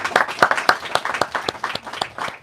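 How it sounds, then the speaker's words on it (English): A small audience at an evening reading event claps, close individual hand claps in a loose, uneven rhythm rather than a dense roar, with a few voices faintly underneath. "Let's give a big round of applause for the Choreic period."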